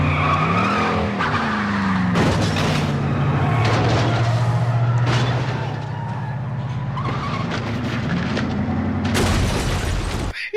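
Race cars in a movie racing scene screech with loud tire skids through a sharp turn, long squeals over a roaring engine with crash-like bursts between them.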